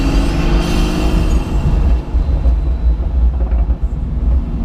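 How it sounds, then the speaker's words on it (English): A Pagani Huayra Roadster with a twin-turbo V12 and a one-off exhaust, heard from inside while driving as a loud, continuous low engine roar that swells and dips. "There's so much induction, there's V12 in there, there's turbos."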